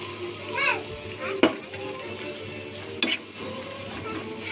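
Crab frying in a pan as a ground paste of white mustard, ginger and chili goes in produces a close, steady sizzle with a couple of sharp utensil knocks and a brief voice early on.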